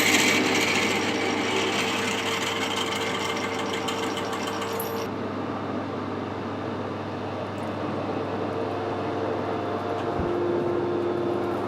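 A blunt tapping drill for a 10mm thread cuts with a loud, steady mechanical drone. Its bright, harsh upper layer drops away about halfway through, leaving a lower hum with a faint tick.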